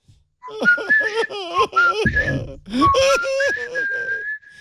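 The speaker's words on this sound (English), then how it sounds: "Whistling. Especially whistling." A person whistles a wavering, sliding tune close to the mic, with brief giggling and voices mixed in partway through.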